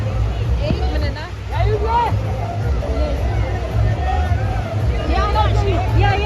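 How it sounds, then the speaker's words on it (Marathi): Crowd hubbub at a busy waterfall spot at Malavali, a steady babble of many voices mixed with splashing and rumble, with nearby chatter rising over it throughout. "आयला काय गर्दी आहे"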